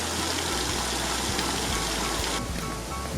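Fresh, clean water flowing at a public village fountain in the countryside, a steady broadband rushing and splashing that stays constant and fairly close throughout.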